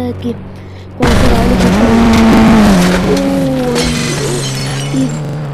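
Car racing down a mega ramp in a video game, an engine roar that rises abruptly and holds loud with pitch shifts, with crashing and scraping effects layered on top.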